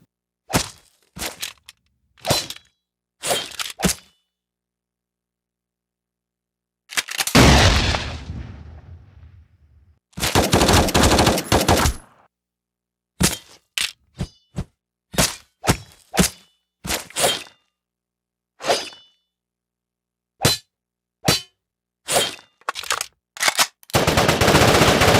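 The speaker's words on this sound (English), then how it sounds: "Well, just guns and weapons." Gun and weapon sound effects from a film sound editing session: loud, sharp bursts of gunfire, including rapid machine-gun volleys and single cracking shots, separated by silences, with longer roaring bursts in between.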